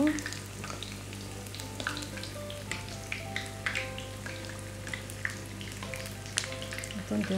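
Hauberlinge, Old Bavarian fried dough pieces, sizzle in hot fat in a pan after being turned, a steady close crackle with scattered pops throughout.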